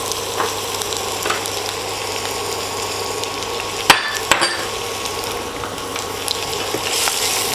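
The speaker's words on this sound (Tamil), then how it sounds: "கொஞ்சம் லைட்டாக ஃப்ரை ஆகட்டும்." Crushed ginger and garlic fry in hot oil for a Kerala-style mushroom gravy, giving a steady close sizzle with a couple of sharp clinks from a spoon or pan midway.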